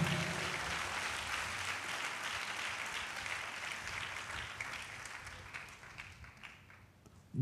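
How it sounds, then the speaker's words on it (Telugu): A church congregation claps loudly in praise during a Telugu sermon, a dense, sustained round of applause that slowly thins and fades over several seconds. "చప్పట్లతో దేవుడు మహింపరుద్దాం గట్టిగా"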